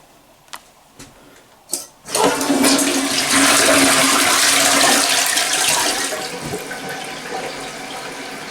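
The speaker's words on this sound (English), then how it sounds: "we'll have to flush it once to get the water down there" A newly installed toilet on a fresh tile floor flushes once: a few faint clicks and a handle clunk, then a loud rushing surge of water that holds steady for several seconds before draining down to a softer gurgle and trickle, with no talking.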